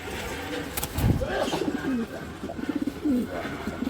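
Racing pigeons of Belgian, Dutch and German lines coo in a steady low burble, a few rolling calls close by, with a brief soft voice in the background.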